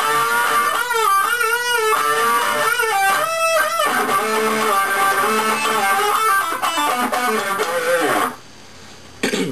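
An electric guitar with no effects plays the opening of a solo, a busy run of bent and picked notes, loud and close with no talking, before it cuts off abruptly near the end.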